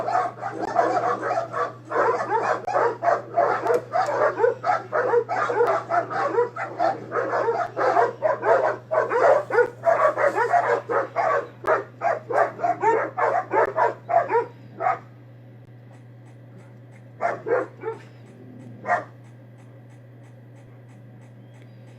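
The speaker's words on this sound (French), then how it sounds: "on voit des chiens qui s'aboient dessus" Several dogs bark back and forth at each other in a rapid, dense volley that lasts about fifteen seconds, then a few isolated yips follow after a pause, heard over a steady low hum.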